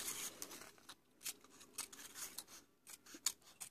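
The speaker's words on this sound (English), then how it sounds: "So just cut your bottom off again," Small scissors snipping through a scalloped paper cupcake liner: a close, quiet run of crisp cuts and rustles, repeated at an uneven pace.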